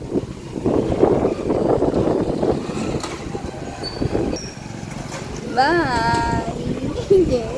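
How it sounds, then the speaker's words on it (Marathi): Strong wind during Cyclone Remal blows outdoors as a steady rushing, buffeting noise, with people talking over it throughout. "हवा सुटली छान."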